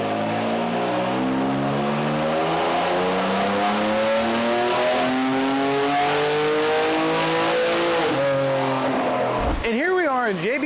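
800-horsepower Kia Stinger with port injection, running on E85 on a dyno: a loud, sustained engine rev climbing steadily in pitch for several seconds before cutting off abruptly near the end, with talk beneath it.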